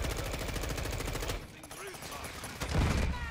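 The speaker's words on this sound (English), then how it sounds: "Oh, the fucking sentry gun's back here." Rapid automatic gunfire from a sentry gun in a multiplayer video game, a dense run of bursts that cuts off midway, followed by a brief later burst.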